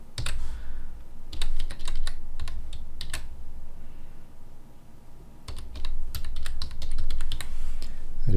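Close, quiet clatter of a computer keyboard as a file name is typed, in two bursts of rapid keystrokes separated by a pause, with no voices.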